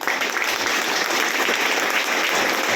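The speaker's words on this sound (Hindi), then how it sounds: "इंडिया के लिए तालियां बजाइए" An audience at a business plan seminar in India breaks into steady, dense clapping, loud and sustained throughout.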